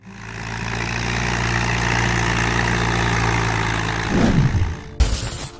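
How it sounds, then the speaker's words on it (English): An Allis-Chalmers WD45 tractor engine runs steadily with a deep, throbbing idle, loud and close, then shifts and revs briefly before a sudden change near the end. "the deep sound of the Allis-Chalmers WD45 engine under the American"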